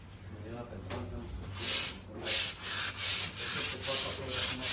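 Sanding of dried drywall joint compound (mud) on a house wall during a flip renovation, a steady gritty scraping in repeated back-and-forth strokes, fairly close, with a person talking over part of it.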